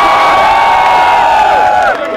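A concert crowd at Galgotias University in Greater Noida cheering and shouting, a loud dense roar of many voices with whoops that holds steady and then dips at the end.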